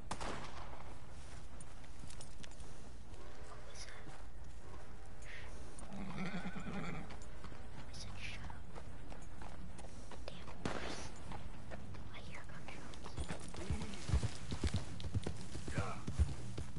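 Horses in a video game neigh and clip-clop amid steady ambient game noise, with occasional whinnies, scattered hoof sounds and a few sharp gunshot-like cracks near the end, under quiet talk.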